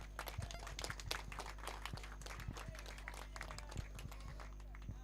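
A crowd claps in a dense, steady patter for a felicitation during a local cricket match between Azad Fighter and Mhasla, heard outdoors and somewhat distant.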